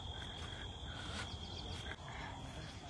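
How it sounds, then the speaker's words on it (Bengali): Crickets trill in the morning at a fruit-picking orchard, a faint, steady, high chirping that goes on without a break under low outdoor ambience, with no voices. "সকালবেলাতেও কিরকম ঝিঁঝি ঝিঁঝি মনে হচ্ছে ডাকছে।"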